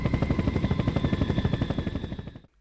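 Helicopter rotor in the Dreamcast game Incoming, a close, rapid, steady chopping pulse with a whining engine tone that cuts off abruptly near the end.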